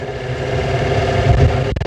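A 1986 Ford F350 truck with an automatic transmission runs at a steady, close idle for almost two seconds, then its note dips and stutters briefly at the very end.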